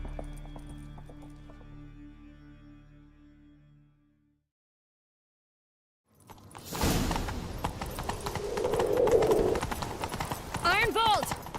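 Horse hooves clop and gallop rapidly, loud and close, after a silent gap, with a horse whinnying near the end, in the video game The Witcher 3.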